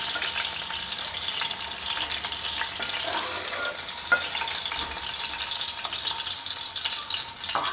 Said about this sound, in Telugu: ఇప్పుడు మనం పచ్చిమిరపకాయలని ఇలా ఫ్రై చేసేసుకుని వీటిని ఇంకో బౌల్లోకి